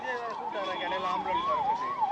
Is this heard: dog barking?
no